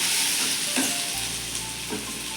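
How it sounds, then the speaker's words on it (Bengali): Potatoes fry in hot oil in a pan with a steady loud sizzle, broken by a couple of scraping stirs, with no talking. "ও এখন আলুটা ভাজা করছে"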